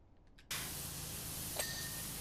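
A pressure washer in PowerWash Simulator 2, cleaning a shopping mall, bursts into a loud, steady hiss of spray after a brief quiet start and holds unbroken to the end.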